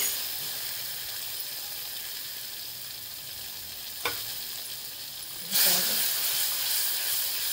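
Greens with turmeric frying in oil in a pan, a steady soft sizzle and hiss with a brief stir sound midway, then a louder burst of sizzling near the end; no talking.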